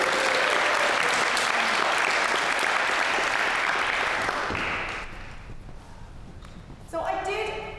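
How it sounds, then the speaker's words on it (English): Dense applause from a lecture-hall audience at a memorial mathematics lecture, loud and steady for about five seconds before thinning out; a few claps and brief talk follow near the end. "Big round of applause."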